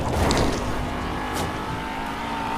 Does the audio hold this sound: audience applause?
no